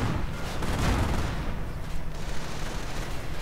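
A tank in a war video game comes under heavy fire, with a continuous rumble of distant gunfire and explosions that rises and falls without a break.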